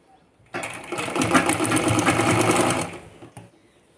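A sewing machine stitches pieces of cloth together for a foam-sheet swing, one close, steady whirring run of about two and a half seconds with a short tail as it slows.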